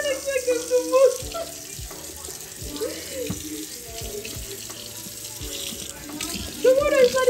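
Tap water runs into a sink in a home kitchen, a close splashing stream with clattering knocks and shifting flow, and a voice speaking intermittently over it.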